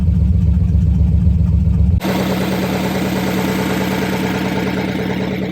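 A warming-up Oldsmobile Super 88 engine idles at high revs, a loud steady drone close by with a brief dip in level partway through, no talking.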